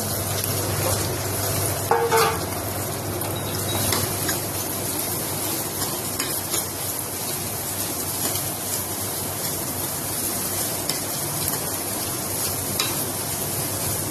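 Onions frying in a pan over a medium flame for moong masoor dal, giving a steady, continuous sizzle and crackle that stays close and even throughout, with a few faint stirring scrapes.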